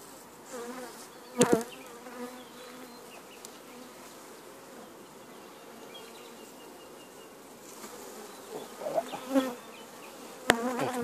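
A dense, steady hum of honeybees buzzing around a hive while an artificial swarm is made, close by, with a few sharp handling knocks and clicks.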